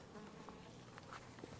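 Honeybees buzz softly on a hive candy board in winter, a faint steady hum of many wings with small close flutters, no voices.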